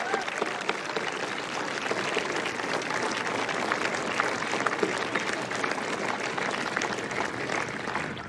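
An outdoor crowd at the 2022 Curtis Cup flag-raising ceremony applauds a group of honourees, a sustained, even wash of clapping at moderate distance.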